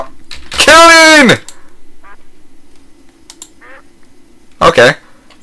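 Ducks in the video game Epicraft let out loud, drawn-out quacks, one long call near the start and a shorter one near the end, with keyboard typing and faint voices in between.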